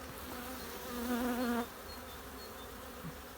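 Honeybees at an opened hive in February buzz in a dense, continuous hum, one bee droning louder and closer for a moment before fading back into the colony's steady background.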